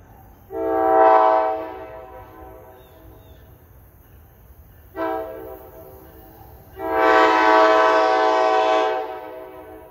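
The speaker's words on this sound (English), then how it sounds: "Has a nice, solid, unrestricted K5 LA horn." An NJ Transit ALP45DP locomotive, unit 4500, leading westbound train 837 sounds its unrestricted K5LA horn: a long blast, a brief short toot, then a second sustained blast. The tones are loud and near, and a low rumble runs underneath.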